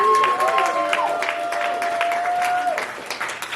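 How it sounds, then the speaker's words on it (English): Audience applause at a poetry anniversary celebration, a crowd clapping steadily with cheers and a long whoop rising over it, fairly loud and close. "Give Ms. Rose another round of applause."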